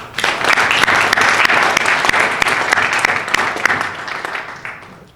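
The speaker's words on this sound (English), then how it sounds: "Please join me in giving a big round of applause to all of our members that help make this possible." Applause fills a dinner hall at a physicians' association fundraiser in San Antonio, rising quickly into dense, sustained clapping from a large crowd before tapering off near the end.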